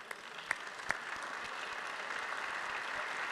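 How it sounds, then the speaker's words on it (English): Steady applause at a high school Teacher Education Academy event, honoring special guests as they stand, with a couple of sharper claps early on and a fairly even wash of clapping throughout. "we would like to give you an Eastside welcome and a round of applause"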